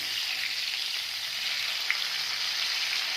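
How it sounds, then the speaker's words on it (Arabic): Sardines frying in oil, a steady, even sizzle heard close up with a single faint tick partway through and no speech. "نقلبهم كامل، زيد نخليهم يطيبوا من تحت ويحمروا."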